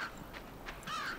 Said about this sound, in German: Rabe, du musst da mal ein bisschen weiter hacken, dann geht das vielleicht weg